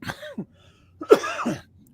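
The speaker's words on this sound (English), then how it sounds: "the cough won't go away" A person with a cold coughs twice, close and loud. The first cough is short, and a harsher, chesty one follows after a brief silence.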